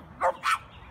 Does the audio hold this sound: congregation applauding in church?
no